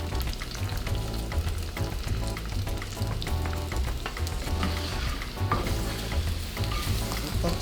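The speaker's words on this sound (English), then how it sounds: "Continue with the process of stir frying." Chicken, green beans and bell pepper sizzle steadily in a hot pan during stir frying, with stirring scrapes over a dense, continuous crackle and no talking.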